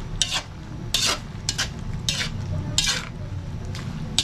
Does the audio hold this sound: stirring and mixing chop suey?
yes